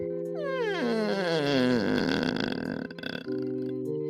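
A voice imitates a creaking door as a vocal warm-up exercise, a long drawn-out rising then falling glottal creak with dense buzzing harmonics, loud and close, alone for about three seconds before a steady hum returns.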